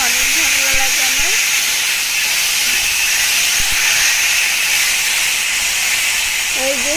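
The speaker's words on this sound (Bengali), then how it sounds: "এই যে শিং মাছটা আমি হালকা করে ভেজে নিচ্ছি" Stinging catfish sizzle loudly in hot oil with a steady broad hiss, close and continuous, while a voice speaks briefly at the start and end.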